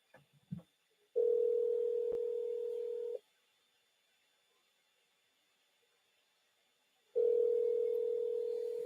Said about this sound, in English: Nobody is answering phone.